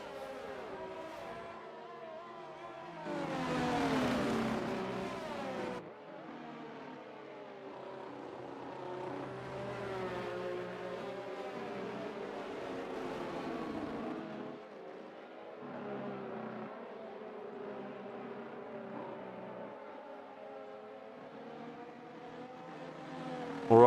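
Formula 1 race cars at the Japanese Grand Prix in a racing video game, engines droning and shifting pitch at a low, quiet level, with a louder surge as a car passes early on.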